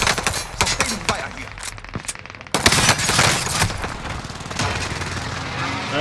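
Light machine gun fire in Call of Duty Warzone, rapid bursts rattling close and loud with steady sustained shooting, a brief lull, then a heavier continuous stretch, with some game noise behind.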